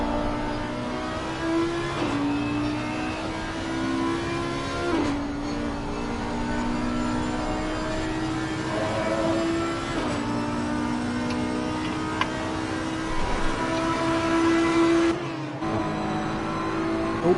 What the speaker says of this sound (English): So we're on board with KM, the 909 Audi.